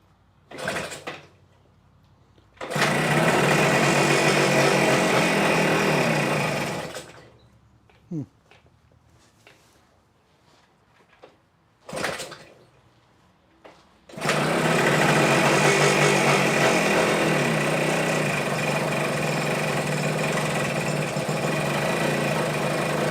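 A Kawasaki engine fires up and runs loud and rough in two long bursts, broken by short silences and brief clanks, with the revving bursts sitting close and steady before cutting out again.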